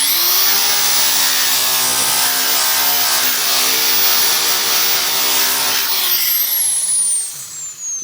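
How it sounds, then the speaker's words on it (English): A power sander running steadily on the rough-cut edges of freshly cut wood boards, a loud continuous whine lasting several seconds before winding down, with no talking. "So it's always good to sand them."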